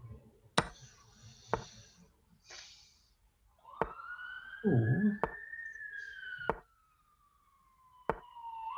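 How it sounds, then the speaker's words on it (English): A police siren wails in the street outside a chess club's marathon round, rising and holding a steady tone at moderate distance, interrupted by sharp knocks and a brief voice. "There's the sirens. there it is. The streets."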